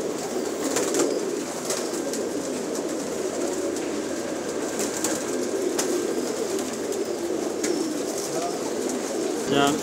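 Dense chorus of many pigeons cooing and shuffling in a crowded pigeon shop stocked with many breeds, a steady indoor murmur of birds throughout.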